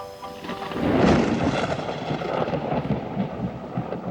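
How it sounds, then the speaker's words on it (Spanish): A deep rolling rumble of thunder swells and lingers over a steady hiss of heavy rain, continuous and fairly loud throughout. "La naturaleza respondió con un trueno ensordecedor, dando paso a chorros de agua cayendo desde el cielo."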